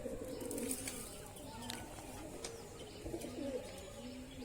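A pigeon on a rooftop cooing in soft repeated low phrases, moderately close, over quiet background with a few faint chirps.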